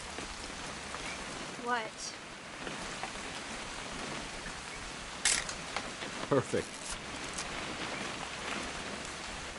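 Steady rain falls throughout a scene from the game What Remains of Edith Finch, a constant soft wash with a few louder clicks and knocks, while people talk briefly over it.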